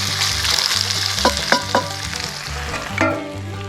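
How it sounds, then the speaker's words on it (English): Potatoes and onions dumped into a hot pan with rendered sausage fat, sizzling and crackling steadily with a few sharp clanks of a utensil against the pan over a low background hum. "Dump our whole pan. Potatoes and onions in there."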